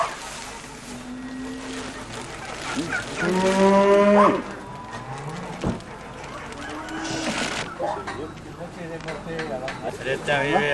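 Cows moo loudly and repeatedly, with rising and falling calls close by during transport in a livestock truck bedded with sawdust, several animals answering one another over a steady background rumble, with people's voices in the mix.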